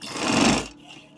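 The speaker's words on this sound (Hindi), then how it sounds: "इसको मैं डबल सिलाई लगा रहा हूँ" A sewing machine runs a short burst of double stitching along a kameez sleeve. The whir is close and loud, lasts under a second, and then stops.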